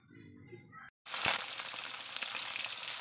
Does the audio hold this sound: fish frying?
yes